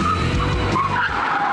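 An electric rally car skids through a slalom along the Oslo coast during a zero-emission rally, its tires scrubbing loudly and close in one continuous harsh skid lasting over a second.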